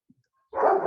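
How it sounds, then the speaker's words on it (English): A dog barks in the background, a single burst that comes in partway through and runs loud to the end after near silence. "And Lynn is a dog lover, as we can all hear in the background."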